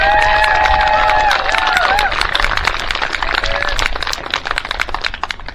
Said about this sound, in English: give a round of applause to CFACT and every speaker that we've had today